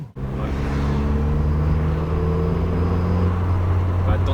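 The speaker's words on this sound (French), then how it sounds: "On va attendre que le moteur chauffe un petit peu quand même parce que c'est une vieille dame." A 1989 Mazda 323 GTS engine idles while warming up, a loud, steady low rumble with a constant hum that starts abruptly and holds even throughout. A person talks over it.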